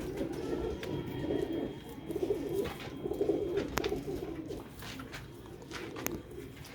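Cooing of a Sialkoti black-faced pigeon, low repeated rolling coos close by over steady ambient bird noise, with no one talking.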